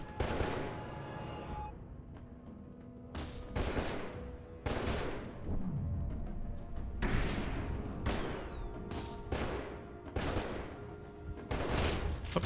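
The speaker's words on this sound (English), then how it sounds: "Stop shooting me." Rapid gunfire bursts in the video game F.E.A.R. 2: Project Origin, repeated sharp volleys of shots at close range coming in clusters with short gaps between them.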